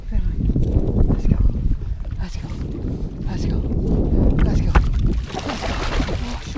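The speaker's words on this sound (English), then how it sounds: "Keep paddling." A kayak paddled on open water while fishing for king salmon, with soft paddle splashes and sloshing under wind noise on the microphone, and a person talking excitedly throughout.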